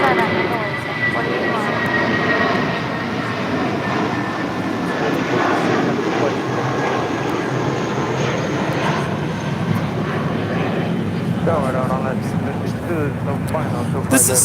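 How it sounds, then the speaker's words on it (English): A Spirit Airlines Airbus A320 takes off from LAX toward Kansas City, its loud, continuous engine roar sustained throughout, with a voice talking over it. "This is Spirit Airlines 816 taking off to Kansas City on an A320"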